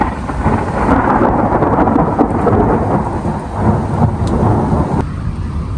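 Heavy, steady rain pours down in a continuous dense roar during a lightning storm, with faint rumbling underneath and occasional sharper drops.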